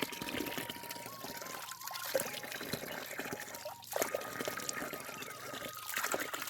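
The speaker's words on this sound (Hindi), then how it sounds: "तो दोस्तों ये है हमारा पीने का पानी, और ये ना बिल्कुल बहुत अच्छा पानी है।" Drinking water from a spring runs in a steady trickle and pour, a continuous close splashing flow that swells slightly now and then, with no talking.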